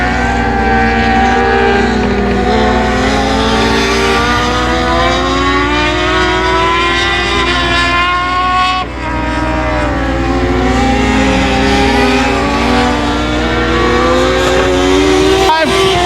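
Race cars on the final lap at a speedway roar loudly and continuously, their engine whine rising and falling as the pack runs down the back straight, with an announcer talking over the noise.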